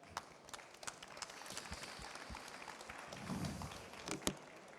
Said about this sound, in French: Merci, on les applaudit.